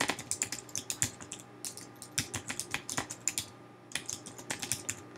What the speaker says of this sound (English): I'm going to go ahead and start typing these